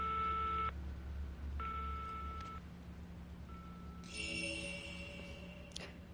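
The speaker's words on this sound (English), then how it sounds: "it sounds like a phone call" Phone dialing tones in the horror game Fatal Frame 5: Maiden of Black Water, with steady multi-tone beeps in two bursts, then a brighter ringing chirp near the end, all over a low background hum.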